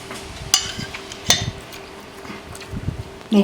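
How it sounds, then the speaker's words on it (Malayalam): Ripe salted mango being mixed by hand with crushed chilli and onion in a bowl, giving soft wet squelching and a couple of sharp clinks against the dish, close and moderately quiet. "ഇനി കൈ കൊണ്ട് നന്നായിട്ട് നമുക്കത് മിക്സ് ചെയ്യാം"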